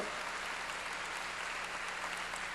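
A church congregation applauds together, a steady, even wash of clapping from many hands that holds throughout at moderate loudness.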